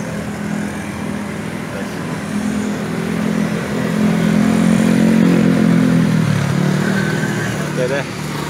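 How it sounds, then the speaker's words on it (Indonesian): Nissan Livina 1.5L 2020 car engine idling steadily, a close, continuous low rumble that swells slightly midway, with faint speech at the end. "Bentar, mesinnya jalan."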